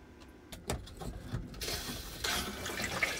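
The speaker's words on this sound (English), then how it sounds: "Oh, I hear water going." Water rushing through the plumbing of a Grand Design Imagine XLS 17MKE travel trailer as valves are opened during de-winterizing, a steady hiss that rises and fills out in the second half, with a few knocks and handling thumps early on.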